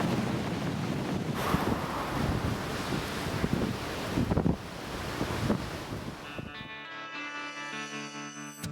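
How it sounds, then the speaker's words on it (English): Huge southerly storm waves pound the Cook Strait coast, a dense roar of surf and buffeting wind rushing loudly for several seconds before giving way to music. "This is Cook Strait at its absolute wildest, a huge southerly storm, massive waves rolling in."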